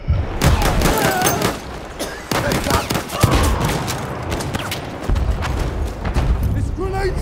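Grenade explosions and rapid gunfire in the Battlefield 1 video game on the Amiens map, loud bursts of machine-gun fire and booms repeating throughout, with voices talking over the battle.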